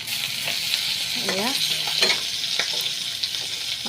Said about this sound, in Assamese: মাছটো অলপ পাছকৈ ভাজি দিলোঁ।